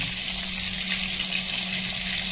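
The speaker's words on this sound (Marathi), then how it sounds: "2 ते 3 मिनिटं ह्याला फ्राय करून घ्यायचं," Chicken crispy balls fry in hot oil over a low flame, giving a steady, dense sizzle with a close, even hiss throughout and no voices.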